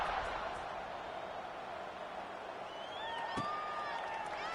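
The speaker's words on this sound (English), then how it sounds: "this crowd is buzzing after that last score" A football stadium crowd after a score gives a broad, steady roar of distant voices. A few whistle-like tones rise through it near the end.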